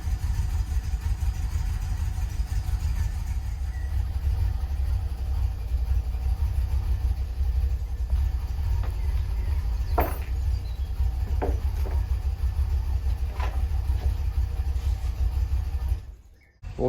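A 1981 DeLorean DMC-12 runs steadily at idle, a low continuous engine rumble that holds even throughout, with a few faint clicks and knocks on top before the sound drops away abruptly near the end.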